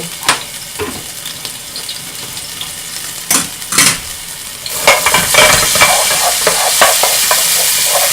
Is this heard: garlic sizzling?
yes